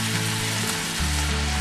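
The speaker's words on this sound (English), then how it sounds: "make sure that your ground beef gets nice and brown" Ground beef browning in a pan with salt being added, a loud continuous sizzle and crackle held up close, steady throughout with a slight swell toward the end.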